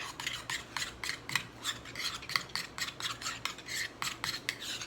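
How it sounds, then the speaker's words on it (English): Red coloring being stirred into a mixture in a bowl, a quick steady run of rasping scrapes repeating about twice a second, close and fairly loud with no talking. "Mix it up real good."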